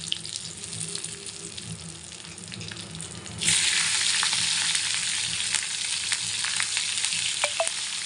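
Red chili dropped into hot oil already seasoned with hing powder, with a steady crackling sizzle that suddenly jumps louder and brighter partway through as the chili hits the pan, close and continuous with no talking.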